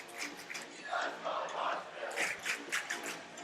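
A crowd at a varsity boys hockey game in Marshfield against Needham makes a steady, distant roar of cheering and shouting in the arena, rising and falling in loudness with no clear gaps.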